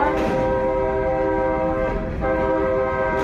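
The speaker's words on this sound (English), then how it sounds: "the train slowly rolled along" A train rolling slowly along snowy London tracks, a loud steady rumble with sustained tonal horn-like drones sitting over it and a brief dip near the end before the sound resumes.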